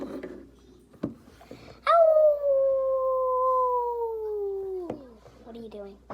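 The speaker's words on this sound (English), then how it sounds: "Just howling at the moon?" A cartoon wolf lets out a single long, sustained howl at the moon, a loud tonal wail that holds steady then drops off, with brief cartoon voices talking just before and after.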